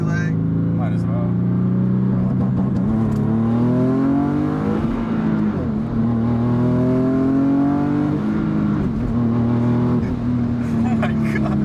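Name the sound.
big turbo Infiniti G37 coupe accelerating in second gear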